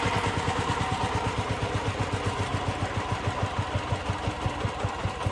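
A tractor engine chugs steadily nearby with a strong, even thumping rhythm, running continuously without a break or change in pace.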